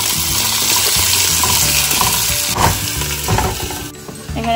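Paneer, capsicum and tomato sizzling loudly in a pan, a dense steady frying hiss with some spoon stirs near the end, close and continuous.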